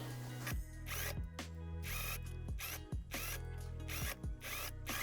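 A sewing machine runs in quick bursts to topstitch a sleeve hem folded up twice, its motor whirring loud and close with brief stops between runs, and nobody speaks.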